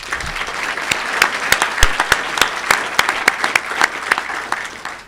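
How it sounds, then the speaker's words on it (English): Club meeting audience applauds two speakers: sustained crowd clapping with a few loud, sharp claps standing out close by, steady throughout and easing slightly at the end. "Let's give them a big round of applause."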